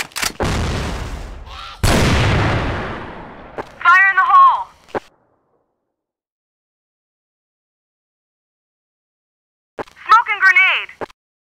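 Explosions and gunfire in a shooting video game, two loud blasts with long rumbling tails, then a voice callout and a silent gap before another short voiced burst.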